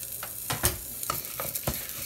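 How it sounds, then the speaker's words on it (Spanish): Onion frying in a pot for noodle soup, with a steady broadband sizzle punctuated by several sharp stirring scrapes and clinks, close and fairly loud throughout. "Entonces aquí vamos a freír también un poquito la cebolla."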